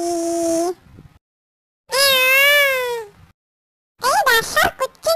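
A cat meows and cries in three separate drawn-out, wavering calls with short silences between them, the last burst broken into choppy cries.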